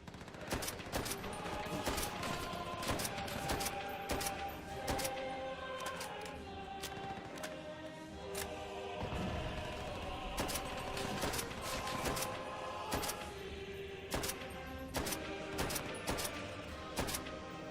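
Dense, continuous machine gun fire and scattered gunshots in the video game Call of Duty: World at War, loud and layered throughout with bursts overlapping in a chaotic battle din.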